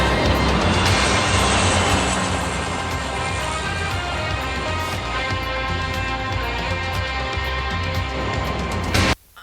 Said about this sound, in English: As the seaplane starts to sputter